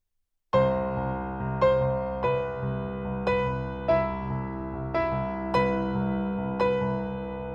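Piano plays the first two bars of a song, a short phrase of repeated struck chords in a steady rhythm, each note ringing and decaying, with no talking.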